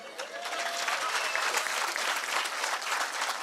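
Steady, dense clapping from a comedy show audience in Muscat, sustained and fairly loud throughout with no pauses.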